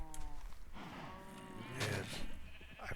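Cows moo on a fenced cow farm in the Minecraft video game, several low drawn-out game moos overlapping one another at a quiet level.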